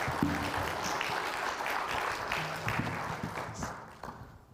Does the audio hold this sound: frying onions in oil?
no